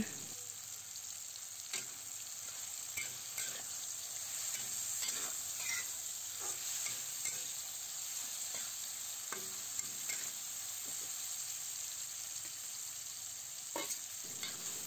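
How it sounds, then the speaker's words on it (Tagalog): Dried anchovies sauté in a hot pan with a steady sizzling fry. Sharp clicks of a utensil stirring and scraping come throughout, close and fairly quiet. "Ilagay na natin ang dried dilis. Gisayin lang natin yan."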